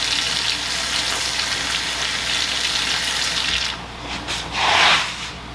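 Tap water runs steadily into a sink while soap is rinsed off, a continuous hiss that briefly changes and gushes louder near the end.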